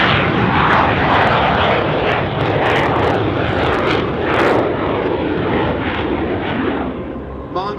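A Lockheed U-2 Dragon Lady with a GE jet engine roars past at the California Capital Airshow, a loud sustained broadband rush that swells and slowly fades, without talk.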